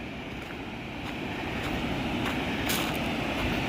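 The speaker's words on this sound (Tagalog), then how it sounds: "Lakas ng agos ng tubig, oh." Strong floodwater current rushing through a newly opened dam in Sultan Kudarat during a typhoon with continuous rain: a steady, loud broadband roar of churning water, close and unbroken, with no voices.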